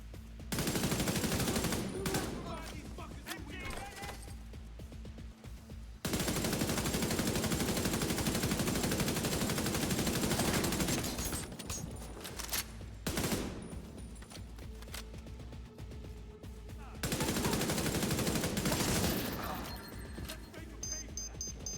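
Heavy automatic gunfire in a multiplayer Division 2 match, with sustained bursts of rapid shots and explosive crashes coming in loud waves and brief lulls, some voices faintly mixed in.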